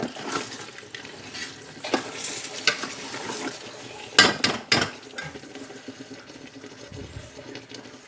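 Scraping and clinking of a utensil against a pot as Tyson sukka is stirred, with a few sharper knocks midway and soft sizzling in the background.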